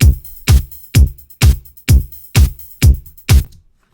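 A steady electronic drum kit pattern in Ableton Live, punchy kick and bright hits with a gated white-noise snare, landing about twice a second, loud and close, ending with a short decay.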